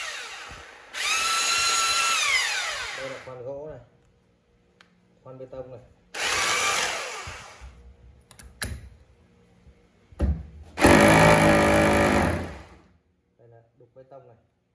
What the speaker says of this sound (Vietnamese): Khoan bê tông này.